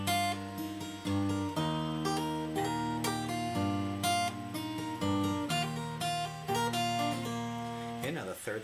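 Acoustic guitar plays Dr. MacPhail's Reel at a slow tempo, clear picked notes ringing over steady bass strings, close and alone.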